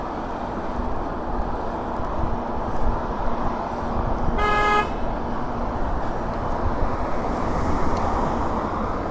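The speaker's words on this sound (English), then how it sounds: "I'm getting honked at" A single car horn honks at a cyclist for about half a second amid steady traffic and wind noise, fairly close and loud.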